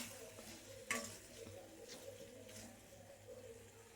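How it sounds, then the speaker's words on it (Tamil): A pot of snails on a traditional cooking fire starts to boil, giving a soft steady bubbling and simmer with occasional clinks of a utensil against the pot. "ஸோ இப்போ தான் வந்து பாயில் ஆக ஸ்டார்ட் ஆகுது."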